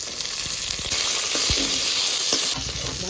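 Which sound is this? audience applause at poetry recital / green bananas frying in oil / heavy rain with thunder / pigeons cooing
green bananas frying in oil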